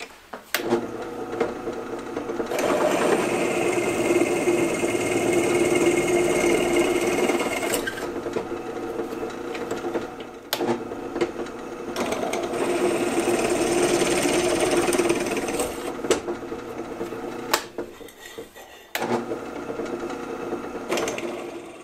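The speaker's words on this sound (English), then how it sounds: "then drill the holes to size" Drill bit boring holes to size in a steel mountain bike seat tube for water bottle braze-ons, a steady whirring, grinding drone that runs continuously with brief pauses and load changes, close and loud.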